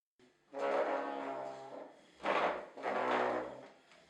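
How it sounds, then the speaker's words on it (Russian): A wobbly wooden chair is dragged across the floor, giving a loud, unpleasant groaning squeak. Three long drawn-out scrapes come close to the microphone with short pauses between them. "наши стулья слегка шатаются и издают очень неприятный скрип, если их двигать по полу"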